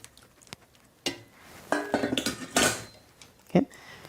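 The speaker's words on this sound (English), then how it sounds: "I'm going to plunge this into the ice water." Cooked beans dropped into a bowl of ice water in a home kitchen, with a soft splash and clinks of a bowl and utensils, a few sharp knocks, then quiet, with a voice speaking briefly nearby.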